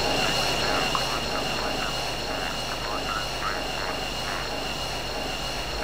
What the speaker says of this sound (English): If we look ahead, they're the A-10 Thunderbolts.